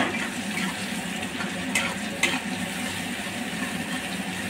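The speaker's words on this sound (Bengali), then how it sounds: "পেঁয়াজগুলো ভালো করে নেড়ে চেড়ে লাল লাল করে ভেজে নেবো।" Chopped onions fry in a pan while a utensil stirs them, giving a steady, moderately loud sizzle broken by two brief scraping clicks.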